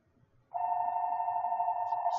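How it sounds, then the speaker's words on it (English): A phone notification tone sounds suddenly after a quiet moment, one steady sustained electronic beep holding at an even loudness until the end, alone without talk. "Excuse my phone there."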